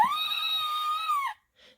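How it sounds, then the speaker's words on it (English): A woman's single sustained high-pitched scream, clear and close, holding steady for over a second before cutting off, with a brief faint noise after. "Anne screamed"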